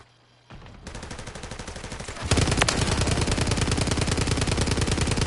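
Rapid automatic gunfire in the video game Call of Duty Warzone, starting as a steady rattling burst and growing louder and denser as more weapons join, a fast unbroken stream of shots with no talk.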